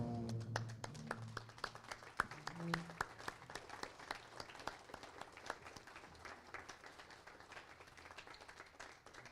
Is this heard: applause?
yes